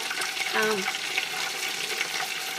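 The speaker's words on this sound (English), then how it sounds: "They're frying really nicely." Oil sizzling and crackling steadily as spinach mozzarella sticks fry, a constant bright hiss with a brief faint tone partway through.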